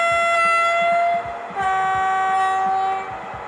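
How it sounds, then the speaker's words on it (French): Horn of a Eurodual dual-mode electric-diesel locomotive in a train simulator game, sounding as a loud sustained two-tone blast that pauses briefly, resumes and rings out with reverberation, with the locomotive's low engine drone running underneath. "Donc déjà on va donner un petit coup de klaxon"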